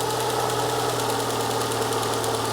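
A repaired Ford Fusion engine idling steadily after deer-damage repair, a close, loud, continuous hum with an even, faintly ticking rhythm and no talking.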